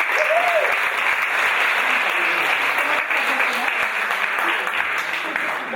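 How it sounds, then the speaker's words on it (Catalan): Sustained applause fills a closing ceremony held by the Torrent town council, a steady, dense crowd clapping that stays loud and even from start to finish. "Un aplaudiment per això."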